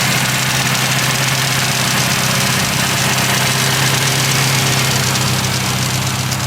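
A 2000 Honda Civic Si engine idles close by, a loud, steady mechanical hum with a low, even drone and a faint rhythmic knock that holds without revving, with no voices.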